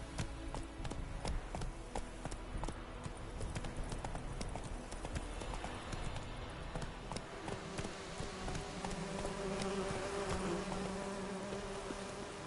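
Hooves of Roach, a horse in The Witcher 3 video game, clip-clop steadily at a trot, a rhythmic series of hoof strikes under ambient insect buzzing and wind, with no talk.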